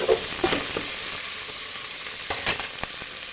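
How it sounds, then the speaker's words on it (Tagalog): Tomatoes frying in a pan crackle with a soft, continuous sizzle, and a few quick scraping strokes of stirring land near the start and again toward the end. "Haluin na natin."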